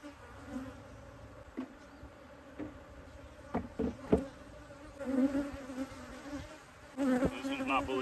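Wild Texas honey bees swarm around an opened hive in an agitated, steady buzz, with sharper close passes darting near and louder bursts toward the end.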